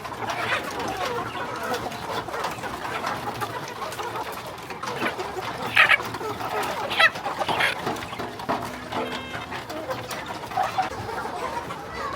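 Domestic desi hens cluck and murmur close by in a farm shed, in a busy, irregular chorus with a few sharper calls.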